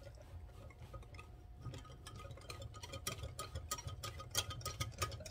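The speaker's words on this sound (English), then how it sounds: "Let's pour that in and let's just start whisking it." Cornstarch mixture for old-fashioned banana pudding being whisked in a bowl, a quiet run of quick rhythmic ticking and scraping strokes that grows a little busier toward the end, with no talking.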